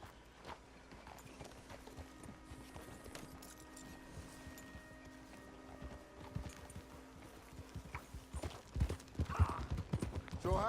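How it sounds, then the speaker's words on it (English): Horse hooves clip-clop steadily under a rider in a Red Dead Redemption 2 game ride, a continuous even rhythm of hoofbeats with a low musical drone behind, growing louder and busier toward the end. "All right, got my horse. Let's go for a ride."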